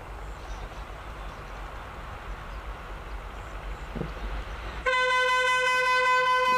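Two diesel locomotives, an Alco and an EMD working as a pair on a Pakistani railway line, pass with a steady rumbling roar. A loud multi-tone horn then blares and holds to the end, with no talk.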